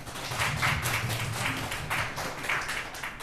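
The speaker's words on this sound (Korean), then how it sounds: "박수 한번 쳐주시죠." A church congregation applauds, a dense wash of clapping that swells and eases across the stretch, fairly close and filling the room.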